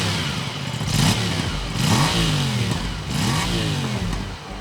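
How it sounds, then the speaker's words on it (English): An Aprilia Tuono 457 parallel-twin motorcycle engine revving, with three or four throttle blips that rise and fall over a steady idle, close and loud with no talking. "let's give you a quick reminder of what this bike sounds like"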